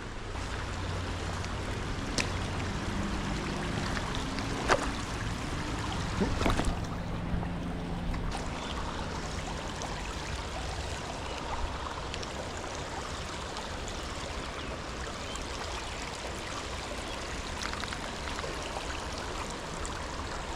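Steady rushing flow of Wissahickon Creek water in Philadelphia, a broad continuous wash with no pauses, close by and unbroken for the whole stretch, with a few faint knocks.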